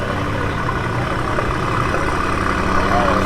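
An Audi RS5 idles at a Chicago car meet, its steady engine rumble close and continuous, with crowd voices faintly in the background.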